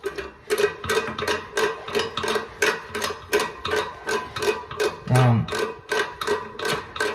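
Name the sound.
tightening down the bolts of a Gerber toilet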